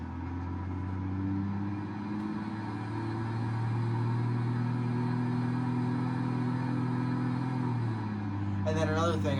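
A Ram 3500 Big Horn with a 7.2L inline-six Cummins turbo diesel in BeamNG Drive cruises steadily, unladen, its low droning engine note holding smooth and even throughout, with a brief higher whine near the end.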